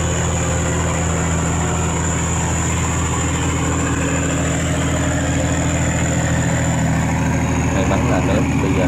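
A barge's heavy engine throttles up and runs loud and steady while it crosses a saltwater-barrier sluice gate against strong current, a constant low droning rumble, with voices faintly underneath.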